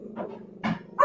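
A dog growls close by in short low rumbling bursts, two grumbles followed by a brief higher whine at the end.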